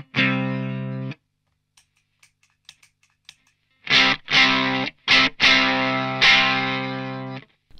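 Electric guitar runs through a Yellowcake Furry Burrito fuzz pedal into a Vox amp with a mildly gritty tone. A strummed chord rings out, a few faint taps follow, then several chopped chords and a final sustained one.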